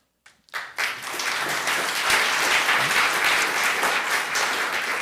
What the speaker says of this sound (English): Maybe we'll hold the applause until I read off all the names and they come forward, then one big applause for them.